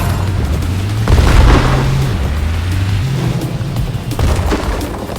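Booming gunfire and explosive bursts from a video game aimed at a monster's head, loud and continuous with heavy low rumbles and layered synthetic game tones, no speech over it.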